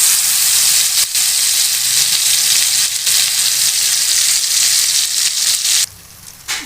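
Ground masala paste hits a hot pan for paneer butter masala and sizzles loudly and steadily, with faint stirring scrapes, until the frying quiets abruptly near the end.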